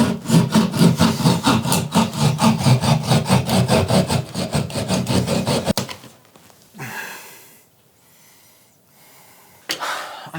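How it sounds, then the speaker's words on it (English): A drill bores through a wooden floor joist while running wiring for a ceiling light: about six seconds of steady, close, rhythmic grinding, then quiet rustling and handling noises. "There's another joist right here, which I'm also going to have to drill through."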